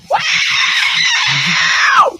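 A single long, piercing scream rings out from a promotional video played back, loud and sustained for about two seconds before trailing off, with faint speech underneath.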